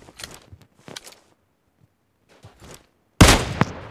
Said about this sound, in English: I can hear the gunshots.